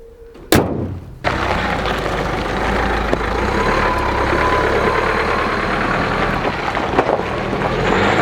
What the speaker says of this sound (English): I do love the tone of this engine.